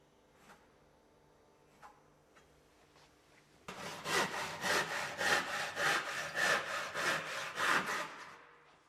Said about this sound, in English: remove the waste material with a handsaw